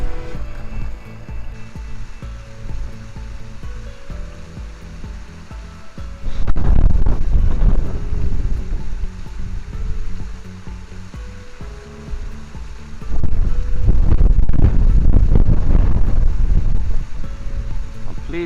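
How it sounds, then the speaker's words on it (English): Strong gusty wind buffets the microphone outdoors at South Linden Fishery, a steady roar that surges into two louder, rumbling gusts, with no talking. "I'm out the wind here because it's bloody gusty as anything"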